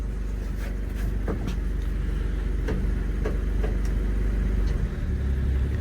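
A 1981 Chevy C10 square body pickup with freshly changed spark plugs idles in gear, a steady close low rumble with faint ticking, holding even throughout without stalling.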